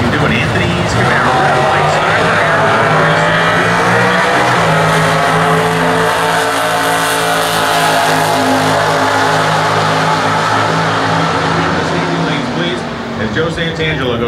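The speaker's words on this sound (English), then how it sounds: "See what he can do in Anthony's Camaro" A Camaro stock-class drag race car at the 2014 US Nationals roars at full throttle, its engine note loud and sustained, rising in pitch as it pulls down the strip, with an announcer talking over it.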